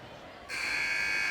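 Final buzzer in the NBA 2K21 basketball video game, a loud sustained electronic tone that kicks in abruptly partway through and holds steady to the end, with no voices over it.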